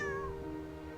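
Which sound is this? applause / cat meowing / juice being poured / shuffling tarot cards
cat meowing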